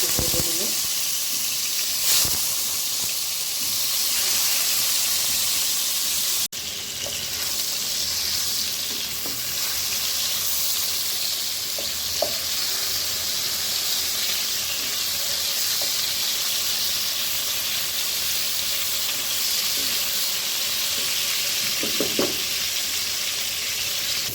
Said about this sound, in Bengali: মাছ আমি ভেজে নিয়েছি যে হালকা একটা ভাজা দিয়েছি